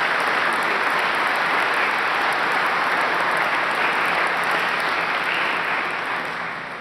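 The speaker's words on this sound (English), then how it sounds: "if we could give them a specific round of applause for what they provided this conference" A conference audience at an opening session gives a sustained round of applause, dense and steady throughout before beginning to fade at the very end.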